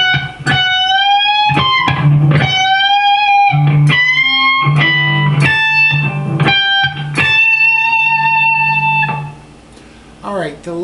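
On an electric guitar lick, a clean-toned string of picked notes with bends and releases bends pitch up and back, played close in a phrase of short and held notes, ending with a fade.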